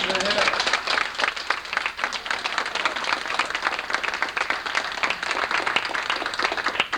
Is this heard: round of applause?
yes